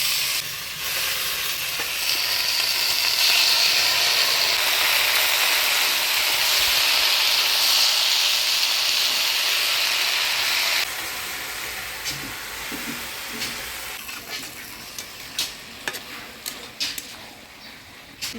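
Malabar spinach hits a hot pan seasoned with turmeric and salt, setting off a loud, steady sizzle and hiss of steam that later fades into quieter frying with scattered stirring scrapes.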